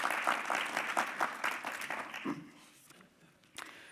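An audience applauds a returning navigator deputy back from the Route du Rhum, a burst of clapping that fades out after a couple of seconds, followed by a faint stray clap.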